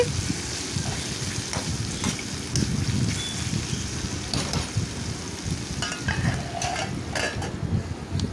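A ladle stirs ridge gourd peels and green chillies frying in a pan, giving a continuous low sizzle with occasional scraping strokes close by.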